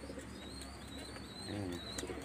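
Pigeons coo in a loft, soft throaty rolling calls close by, with a burst of louder cooing partway through over background noise.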